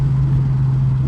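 A Nissan 350Z engine holds a steady low drone through a double downshift while cruising around a neighborhood, a close, even hum with no talking.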